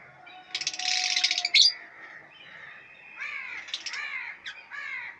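Lovebirds in a breeding cage give harsh, raspy chirps and squawks in short bursts with brief pauses, close and loud, with no talking.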